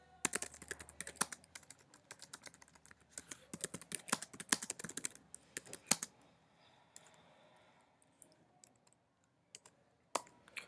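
Typing on a computer keyboard to enter a table title in a spreadsheet cell: rapid, close clicking keystrokes in bursts for about six seconds, then quieter with a few isolated key taps.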